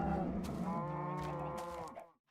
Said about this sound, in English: Alright, cows.